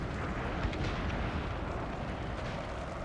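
Cannon artillery fires in a Total War battle set in the Thirty Years' War, heard as a dense, continuous low rumble of booming shots with no clear gaps.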